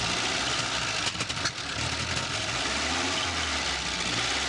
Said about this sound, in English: the engine suddenly roared to life like this old truck had been waiting for this moment for years